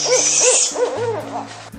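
A barred owl gives the call its parents use to gather their young, a series of rhythmic hooting notes, fairly close and clear, with a brief higher, hissing note at the start.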